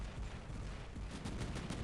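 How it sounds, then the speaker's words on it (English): Heavy machine gun fire in War Robots, a mech combat video game, forms a dense, continuous rattle of rapid shots with sharper bursts near the end, steady and fairly loud throughout. "Heavy machine gun."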